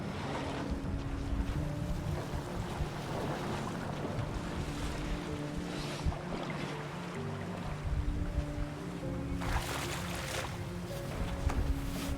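Boat paddling on water in the Detroit: Become Human video game, with soft wet splashes and sloshing over a continuous ambient water and wind bed, fairly quiet throughout.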